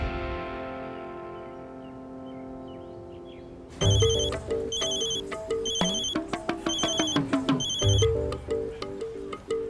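A telephone ringtone plays during an outgoing call. It is a bright, repeating electronic melody with rhythmic beeping phrases, loud and close, and it keeps going without any talk.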